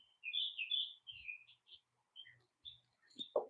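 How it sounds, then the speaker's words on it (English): Small birds chirp and trill outside a home workshop in a series of bright, high tweets and short calls, fairly close and clear, with a few faint low knocks near the end. "Listen to that bird."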